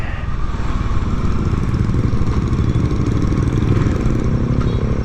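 A Kawasaki Dominar UG2 big bike motorcycle engine gives a loud, steady, close-up rumble that stays even and unbroken from start to finish.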